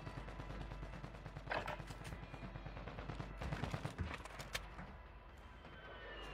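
Gunfire in the video game Fortnite: faint bursts of rapid automatic shots that sound distant, set against steady game background noise.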